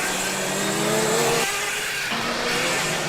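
A Formula Student race car drives past on an endurance track, its engine note rising and falling as it accelerates, loud and continuous with a brief drop partway through.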